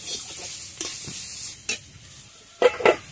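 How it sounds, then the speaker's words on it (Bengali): Onions frying in mustard oil for a village-style chicken kosha, with intermittent scraping stirs and bursts of sizzle over a steady low crackle, close up and with no voices. "একটু পেঁয়াজটা ভাজা করে নিই"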